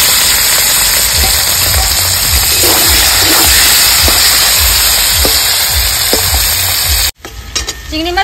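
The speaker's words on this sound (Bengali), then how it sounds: "চিংড়ি মাছ ভেজে নিয়েছি, তুলে নেব।" Salt-and-turmeric-coated prawns fry in hot oil with a loud, steady sizzle and crackle, bursts of spitting and popping throughout, then the sound cuts off sharply near the end, leaving faint rattling.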